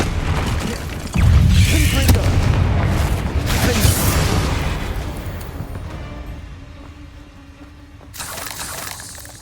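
A Confringo fire-blast spell in a wizard video game bursts out as a loud, rumbling explosion with a deep boom, then fades into a long dwindling roar before a fresh burst near the end.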